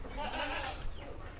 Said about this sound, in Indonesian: Ini kambing lokal